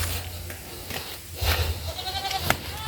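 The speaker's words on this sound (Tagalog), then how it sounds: "Iwawa yung mga kambing." Several goats bleat on a farm, a few nearby calls scattered among quieter background noise, with one clearer bleat near the end.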